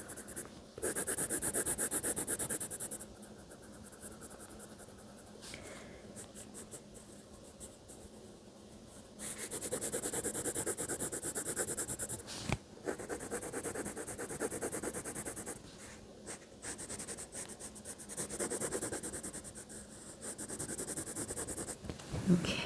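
A brown colored pencil shades a drawing on paper, a soft dry scratching that comes and goes in strokes, with quiet breathing and small handling noises between passes.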